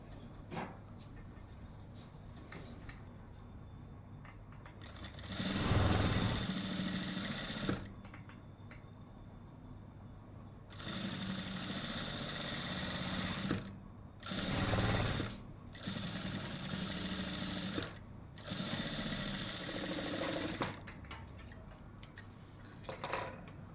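A sewing machine fitted with a single foot stitches piping onto a bag lining, running in several loud, steady bursts separated by short quiet pauses.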